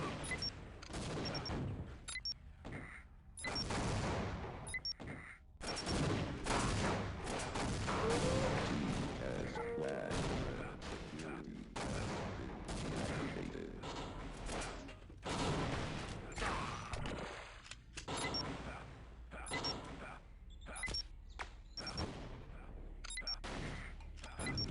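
Grenade jump explosions in the Team Fortress Classic game: a dense run of sharp, loud blasts and bangs, one after another throughout, with a voice talking over them.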